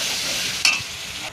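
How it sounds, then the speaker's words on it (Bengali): Onion and lightly crushed garlic fry together in hot oil, a close, steady sizzle with a brief scrape of stirring midway. "পেঁয়াজের সাথে রসুনটাও ভেজে নেব একসাথে।"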